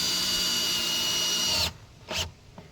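Power drill driving timber screws into the timber subframe of a storage deck, a steady close whine running for about a second and a half, then stopping, followed by two short faint bumps.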